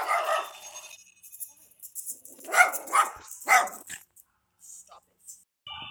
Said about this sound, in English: Cute little dog, though.